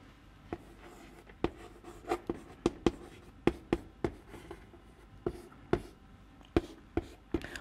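Pen or chalk writing out a physics half-life solution, a series of sharp taps and short strokes in an irregular rhythm, close and fairly quiet, with no talking.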